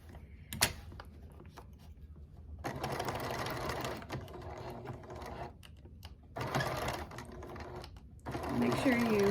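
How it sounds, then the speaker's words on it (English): Sewing machine stitching across the bottom of a drawstring tote bag with a clear vinyl panel, running in several steady bursts with short pauses between them, close and moderately loud. "I'm going to stitch right where that pin is this way, because this is what's going to give us a flat bottom"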